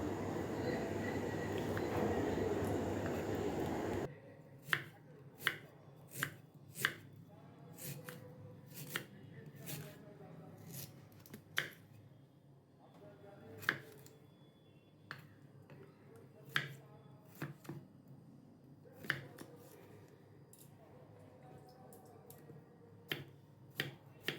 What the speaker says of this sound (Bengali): আলাগুলো আমি ভালো করে ধুয়ে কুচিয়ে নিচ্ছি আমি ছোটো করেই কুচিয়ে নেব